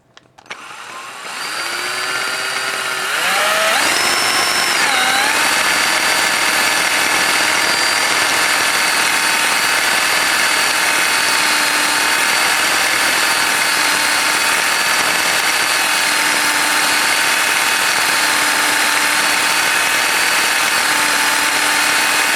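A crown enhancer spins against an airsoft barrel to remove a burr, giving a steady, loud motorized whir that winds up over the first few seconds and then holds constant with slight pitch wobble, without talk.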